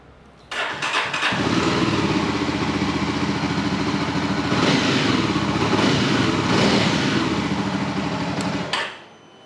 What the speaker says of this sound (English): This has a single exhaust, so let's see if it sounds very different.